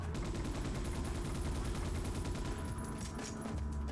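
Machine gun fire in the video game Ghost in the Shell: Stand Alone Complex, a continuous dense rattle of rapid shots running the whole time, loud and steady with no talk over it.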